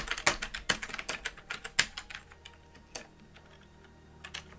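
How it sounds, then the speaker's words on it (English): Keys clacking on a computer keyboard, a burst of quick, close taps that thin out into a few slower, scattered presses, with no talk. "I'll just type it in."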